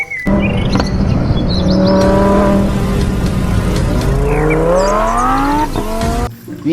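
Toy race car sound effect playing loudly and continuously, a rising and falling electronic engine whine with revving sweeps and brief chirpy tones, cutting off abruptly near the end.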